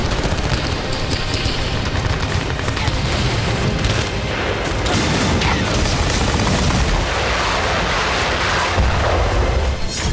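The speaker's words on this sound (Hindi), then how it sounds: "युद्ध भूमि में भी जबरदस्त बारूदी धावा बोल रहा है" Battlefield war footage of a Ukrainian assault: a dense, continuous roar of loud gunfire and blasts with no clear gaps.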